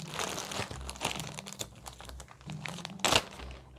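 A clear plastic Ziploc bag holding a synthetic wig crinkles and rustles close by as it is handled. Irregular crackling bursts repeat, with a sharper crinkle near the end.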